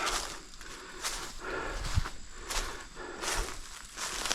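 Slow footsteps crunching through leaf litter in a Michigan oak forest in autumn, steady paced steps close by over a rustling outdoor background, with no talking.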